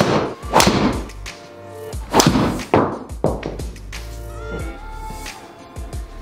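Several sharp thuds from a golf driver striking balls off a standard old-school wooden tee peg, spaced irregularly and loud against a steady background hum, with no talking.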